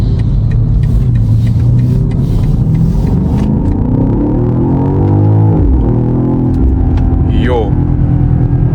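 A fast SUV accelerates hard with a loud, rising engine rumble and a gear-change dip midway, its revs climbing again, while people talk over it inside the cabin.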